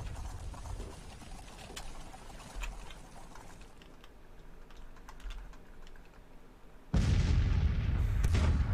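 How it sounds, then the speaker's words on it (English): Three-inch artillery guns fire in the Civil War strategy game Grand Tactician, with muffled booms and crackling battle noise under a steady din, then a louder dense rumble of gunfire near the end. "Come on, 3-inch guns. Do your job."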